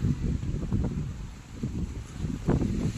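Strong wind gusts buffet an outdoor microphone on a bicycle ride near a Qatar base, a steady low rumbling roar that swells and eases, with no voices.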